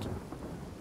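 A video game lightning bolt spell: a deep, loud rumble of thunder with a hissing, rain-like wash, brief and heavy.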